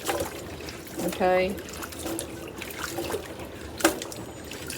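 Food being washed by hand under running water from a tap, a steady hiss and trickle with a few splashes while someone talks over it.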